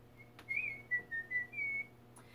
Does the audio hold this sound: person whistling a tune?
yes